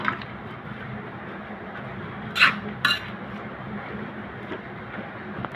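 Dried fish (shutki) sira curry with greens, Sylheti style, stirred in a pot: two sharp metallic clinks of a spoon against the pot rise briefly above a steady, quiet background murmur.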